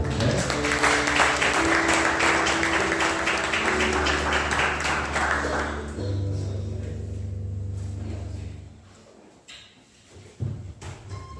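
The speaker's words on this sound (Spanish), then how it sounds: "Recibimos con un cálido aplauso a Diego, quien nos trae la palabra." A church congregation claps warmly at a Sunday service to welcome the preacher, a dense steady applause over low music that fades out after about eight seconds.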